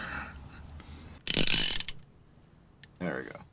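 A hand ratchet tightens the transmission drain plug on a Lotus Evora, one close burst of quick metallic clicks about half a second long, then a brief softer second round of ratcheting.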